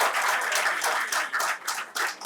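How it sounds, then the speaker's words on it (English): Sustained audience applause at an evening app launch event for cricket legend MS Dhoni, with dense clapping filling the room throughout, swelling and dipping slightly in waves. "Big round of applause for these amazing gentlemen."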